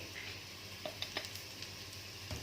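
Spice powders, including pepper and garam masala, are stirred into hot oil for a mutton curry, with a faint, even sizzle and a few soft scrapes and clicks from the spoon.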